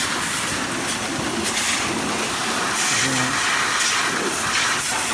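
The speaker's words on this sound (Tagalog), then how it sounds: "So yung machine natin is working na." The motor of a carwash vending machine runs steadily, giving a constant loud hiss and rushing noise with no pauses and a low mechanical rumble underneath.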